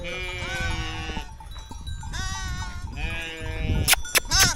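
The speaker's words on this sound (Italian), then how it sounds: "Ah, le pecore, queste sono pecore." Several sheep bleat loudly nearby in long, wavering calls, one after another, with a few sharp knocks near the end.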